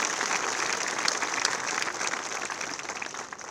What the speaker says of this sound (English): I want everybody to give a big round of applause for our Valedictorian and Salutatorian